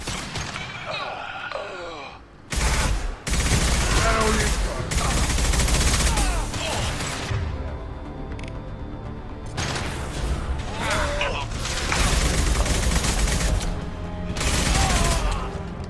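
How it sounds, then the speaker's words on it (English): High-impact shots fired in the Mass Effect 2 video game: loud, close bursts of gunfire in repeated volleys with brief gaps, mixed with battle noise and occasional grunts or gasps. "Firing a high impact shot."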